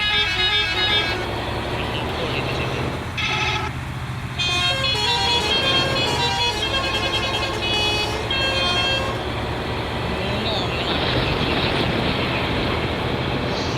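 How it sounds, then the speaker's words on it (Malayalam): A bus engine in a bus video game starts up and settles into a steady idle, accompanied by tonal beeps and chimes, loud and continuous throughout. "ബസ്സിൻ്റെ ആദ്യത്തെ ഓൺ ഞാൻ കേൾപ്പിച്ചിട്ട്"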